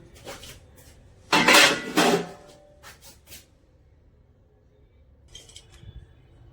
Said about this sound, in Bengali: হয়ে গেছে, এবার ঢাকাটা খুলে দিলাম।